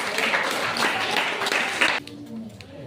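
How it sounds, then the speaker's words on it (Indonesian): A classroom group claps for the first presenting group, a short burst of applause that breaks off suddenly and leaves faint room noise behind. "tepuk tangan buat kelompok 1"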